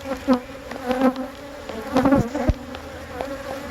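Honeybees at an opened hive drone in a steady hum, with a few louder passes near 0.3, 1 and 2 to 2.5 seconds as individual bees fly close by. No one speaks.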